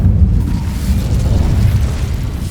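A fire spell cast in a magic video game gives a loud, roaring whoosh that holds a steady low rumble for about two and a half seconds. No voices are heard.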